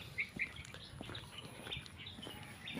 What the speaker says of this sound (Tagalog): so narinig nyo yung mga ibon guys